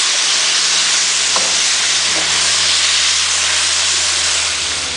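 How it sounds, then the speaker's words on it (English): Black pepper chicken in sauce hisses and sizzles loudly and steadily in a hot pan while being stirred, with a faint scrape or two under the dense steam noise. "I'm just going to stir it until it's all thoroughly coated with the sauce."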